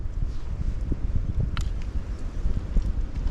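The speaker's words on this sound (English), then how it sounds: "It's kind of a spooky night, you know, kind of one of those classic cold, windy nights." Strong wind gusts through the woods on a cold spring night at a hammock camp, a steady low roar buffeting the microphone with rustling throughout and no talking.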